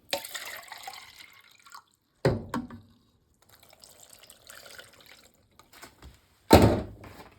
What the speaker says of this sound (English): So now we are going to add some water.